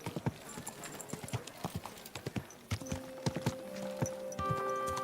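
Horse hooves clip-clop in a steady walking rhythm in the video game Kingdom Come Deliverance II, clear and close, with a sustained tone from the game entering near the end.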